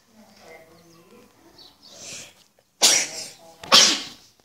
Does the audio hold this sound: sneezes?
yes